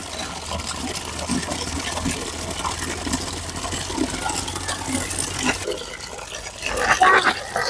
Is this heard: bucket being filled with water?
yes